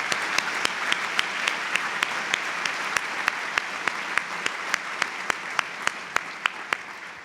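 Audience clapping steadily for a retiring police chief at a community gathering, a sustained round of applause with no talking over it.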